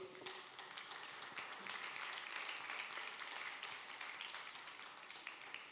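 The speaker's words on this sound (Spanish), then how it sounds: "Denle un aplauso al Señor por la palabra ahí." A church congregation applauds during an evening Papiamentu worship service led by an evangelist, a steady, dense wash of clapping from many hands filling the room without pause.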